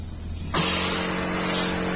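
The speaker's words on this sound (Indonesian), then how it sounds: "saya mau semprot dulu ini." A 16-liter tank sprayer starts with a sudden loud hiss and keeps spraying in a steady rushing stream over watermelon seedling growing media, up close and alone.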